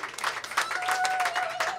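A live audience applauds during a music session at South by Southwest, a dense, steady wash of clapping that stays loud and close for the whole stretch, with a faint sustained tone running underneath.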